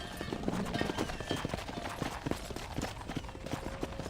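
Horse hooves clip-clop in a steady, brisk rhythm in the Western video game Red Dead Redemption, close and continuous over an outdoor ambience.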